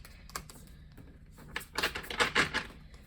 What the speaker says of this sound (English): we're gonna shuffle just a little bit here today so you can see